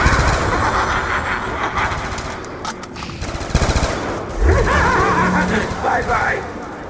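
Gunfire in Black Ops 2 Zombies: rapid bursts of shots crackle in quick succession amid game noise, with a voice talking over the action.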